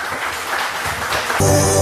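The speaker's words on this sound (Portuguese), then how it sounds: "Para a salva de palmas de vocês." An audience claps at a round table of writers during a book fair in Frederico Westphalen. The clapping is a broad, steady wash that gives way to tonal music near the end.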